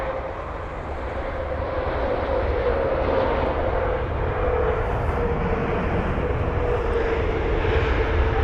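An Air Canada jet airliner at London Heathrow airport gives off a steady, loud engine roar and whine that holds level throughout, with no voices.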